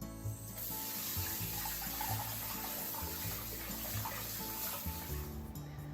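Tap water running into a bowl while raw shrimp are rinsed of starch in a kitchen, a steady close splashing stream with small irregular sloshes throughout.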